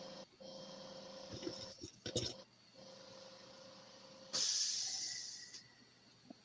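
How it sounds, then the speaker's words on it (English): An air compressor hisses in a room during a live stream, a steady broadband rush that swells loudly for about a second midway, with voices talking over and around it. "Sorry about the compressor noise."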